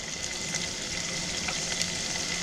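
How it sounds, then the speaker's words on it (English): Spaghetti in Campbell's tomato soup sizzles steadily in a big hot pan, a dense continuous crackling hiss with small pops, close and fairly loud. "Can you hear the sizzle?"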